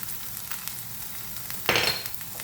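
Curry bun filling sizzles steadily in a pan, and a burst of louder crackling breaks out as spice powder is tipped in, then settles back to a low fry.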